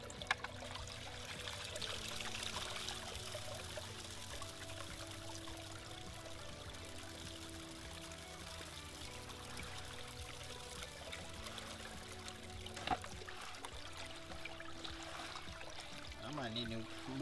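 Water pouring and trickling steadily through a gold sluice onto sluice mats during a prospecting test, a continuous soft flowing wash at low level with no talk, a faint knock near the end.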